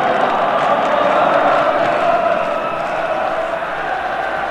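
Irish crowd at a 1988 European Championship qualifier football match against Scotland, a broad roar of cheering that stays loud and steady throughout, with distant crowd noise filling the stadium.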